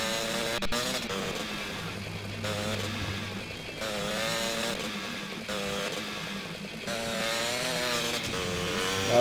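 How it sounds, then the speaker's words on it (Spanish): Pink motorcycle engine in GTA Liberty City Stories, a steady buzzing drone that holds loud and continuous for about nine seconds, with slight rises in pitch as it revs. "Vamos a ir con la chapa en esta moto rosa"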